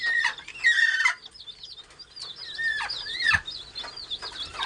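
A desi hen brooding eggs clucks and calls in short bursts, fairly close, with a quieter stretch of softer clucking between them.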